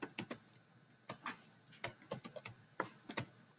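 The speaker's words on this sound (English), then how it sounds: "I'm going to type in" Quick bursts of typing on a computer keyboard, clustered key clicks separated by short pauses, close and quiet with no talk.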